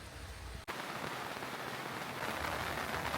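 Rain falling over rice fields in Bali, a steady hiss of dense, fine drops that spreads evenly across the whole stretch, fairly soft and continuous, with one brief dip near the start and no talking.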